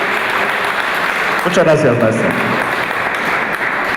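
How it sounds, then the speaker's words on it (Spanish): A congress audience claps steadily for about four seconds in a hall, with a voice speaking over the applause partway through. "Fuerte el aplauso."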